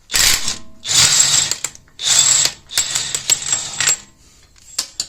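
A 36 mm front axle nut being worked off with a ratchet, several loud bursts of rapid metallic clicking separated by short pauses, close and without talk.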